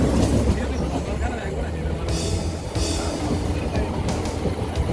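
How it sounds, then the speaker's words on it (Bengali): A local passenger train running on its tracks out of Howrah, a loud, steady rumble with rattling carriages and rhythmic wheel clatter, heard from inside the coach with faint voices in the background. "আমাদের ট্রেনটা ছেড়েছে"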